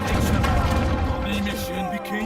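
Great bombard cannons firing in the real-time strategy game Age of Empires III, with heavy booms and crashing impacts rolling together in a loud, dense barrage.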